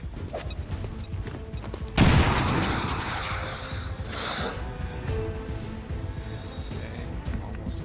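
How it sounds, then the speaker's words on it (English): A frag grenade blows up in the XCOM 2 video game with a sudden loud blast, followed by a long rumbling roar of debris and mixed gunfire that fades slowly. "Throw the frag grenade at him."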